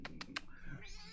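Cat meowing once, a drawn-out, rising meow close by, after a few quick clicking taps.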